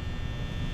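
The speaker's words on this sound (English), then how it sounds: "There's the fan like normal." Steady electric hum of the office fan in Five Nights at Freddy's, a constant low droning buzz with no variation over a brief moment.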